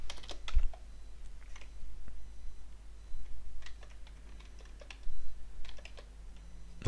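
Typing on a computer keyboard while entering text in a Microsoft Word document, heard as soft, quiet clusters of key clicks in short irregular bursts, with no talking.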